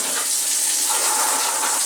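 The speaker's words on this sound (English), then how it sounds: "you can see I've got a pretty good little stream with this pump" Flood coolant pumped as a stream onto a machine, heard as a continuous, fairly loud hissing gush of running liquid.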